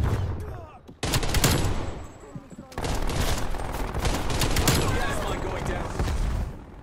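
A sentry turret in a Call of Duty match lets off loud, dense, sustained automatic fire in two long stretches, cut by a brief lull. A player's voice speaks in between.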